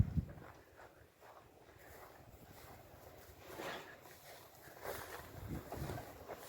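Gusty wind buffeting the microphone at an abandoned gold dredge in Wyoming, faint and uneven, with bursts that swell and fade, and no talk.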